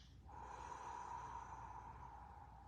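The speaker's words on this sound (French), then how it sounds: "on inspire par le nez, on peut retenir et on expire." A long, slow exhale through the mouth during a guided morning breathing routine: a steady, airy breath that lasts a couple of seconds, close and alone, with no talking.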